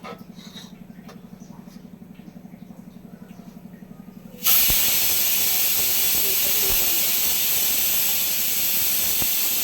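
Steam hisses loudly and steadily from a pot of cooking intestine curry, breaking in suddenly over a softer rhythmic rumble and then holding as a constant broad hiss.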